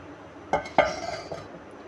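A hot lid set onto a karahi of simmering green chicken karahi, with two quick metallic clanks and a short ringing tail, close and clear against a quiet kitchen background.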